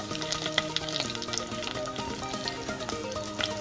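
Lumpiang toge bean-sprout spring rolls deep frying in hot oil, a continuous dense sizzle and bubbling with occasional pops, close and alone.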